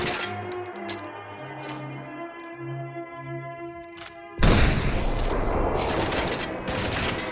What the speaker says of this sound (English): the Crude Blowback was fun to use and had a decent fire rate to go along with a large mag